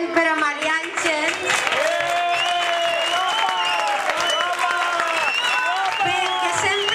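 A school audience applauds at an end-of-year concert for Maria Àngel. Steady clapping runs throughout, partly covered by loud voices calling out and singing over it.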